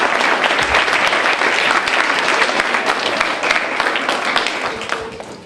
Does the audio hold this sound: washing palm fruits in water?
no